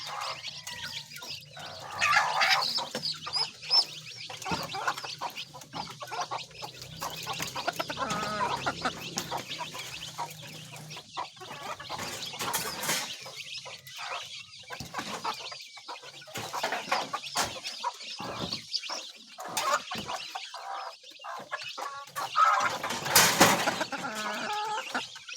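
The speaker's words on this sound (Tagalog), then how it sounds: "papakain muna tayo ng ating mga sisiw." Chicks cluck and peep steadily as they are fed. The calls come close and lively, with scattered bursts, over a long stretch.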